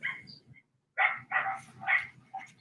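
A neighbour's dog barks repeatedly in a series of sharp, mid-distance barks with brief pauses, loud and clear with no one talking over it.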